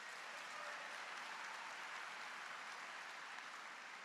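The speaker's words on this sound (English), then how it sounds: "let's give all of our volunteers a round of applause" Audience applauding graduation volunteers at an engineering graduate recognition ceremony, a steady, dense wash of clapping from a large crowd that holds evenly for about four seconds without talk.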